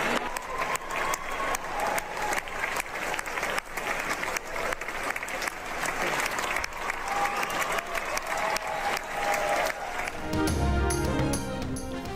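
Theatre audience applauding loudly and steadily at the close of a play at London's Royal Opera House, dense continuous clapping that swells briefly near the end.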